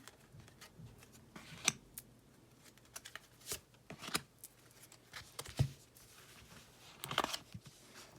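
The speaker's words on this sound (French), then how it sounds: "donc on va tirer d'autres cartes." Tarot cards are shuffled and drawn nearby in quiet surroundings, giving a string of sharp, irregular card flicks and riffles with soft gaps between them.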